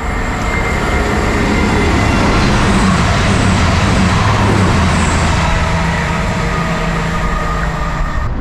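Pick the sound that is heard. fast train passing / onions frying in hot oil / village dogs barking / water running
fast train passing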